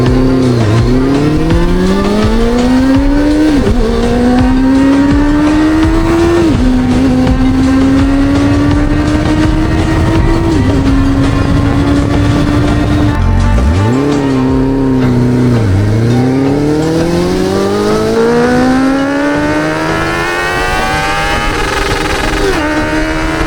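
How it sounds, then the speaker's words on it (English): A restored motorcycle's four-cylinder engine revs hard past 6,500 rpm, its loud, deep roar climbing in pitch through repeated rises and drops, then sweeping up again near the end, with no voices over it. "the deep and powerful roar coming from its hidden 4-cylinder engine"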